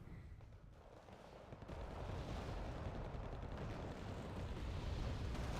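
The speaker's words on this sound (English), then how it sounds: "Another napalm strike here." A napalm strike explodes in the real-time strategy game Wargame: Red Dragon, a low rumbling roar that swells after about two seconds and keeps burning steadily at moderate loudness.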